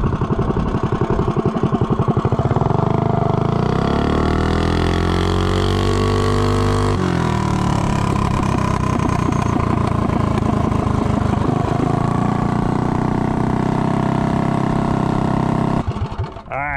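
Doodlebug minibike engine fitted with a Juggernaut Super 30 series torque converter, revving hard and loud throughout with rising and falling pitch as it accelerates, close up and alone without talk.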